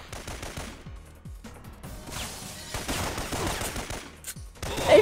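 Bursts of gunfire in the Syphon Filter video game, sharp repeated shots in quick clusters, some close and punchy, with brief pauses between volleys.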